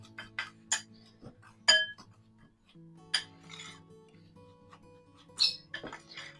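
Ingredients with ground cinnamon being mixed in a bowl, quiet scattered clinks and scrapes of a utensil against the bowl, irregular and close, with no talking.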